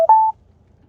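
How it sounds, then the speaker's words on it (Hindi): Telephone tones signal an incoming call to a live devotional phone-in radio show: a brief tone followed by a steady, clear beep, alone and close, then quiet. "अब एक फोन आ रहा है, एक फोन ले लेते हैं किसी भगत भाई का"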